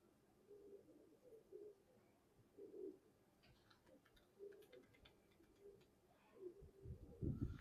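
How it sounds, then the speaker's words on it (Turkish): Pigeons cooing in a coop, soft repeated low coos at irregular intervals, faint and close, with light ticking and rustling between calls and a louder flutter at the end. "Ben şu kümesten kuş çıkaracağım arkadaşlar"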